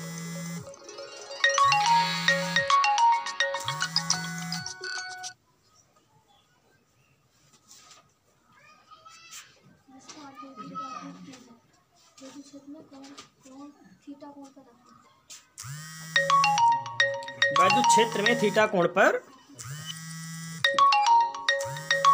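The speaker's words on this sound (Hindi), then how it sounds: "फोन बज रहा है भाई।" A phone ringtone rings loudly in repeating melodic bursts, fades out while someone speaks, then returns just as loud.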